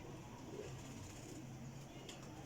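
Faint, low cooing from Amritsari Indian golden pigeons kept as breeding pairs, soft rolling coos under a quiet room hum, with a voice murmuring in the background.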